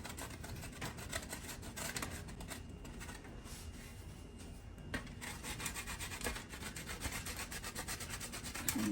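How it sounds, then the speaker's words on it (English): Frozen shortcrust pastry dough is grated on a hand grater in a kitchen, giving a steady close rasping scrape that runs on continuously without talk. "on my grater, I'm going to grate"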